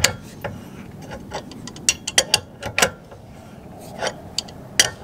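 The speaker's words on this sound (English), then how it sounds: "tightening up the bolt with the huge crescent wrench" A big bolt on a trailer is tightened with a huge crescent wrench. Irregular sharp metallic clicks and ratcheting ticks come in uneven bursts, close by, over a low background hum.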